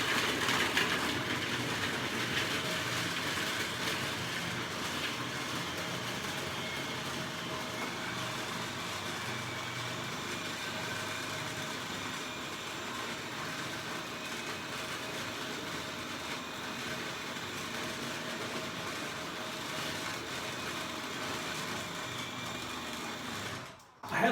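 A food processor blends cold mango ice cream with a steady, loud grinding whir that runs continuously and alone for over twenty seconds before cutting off abruptly.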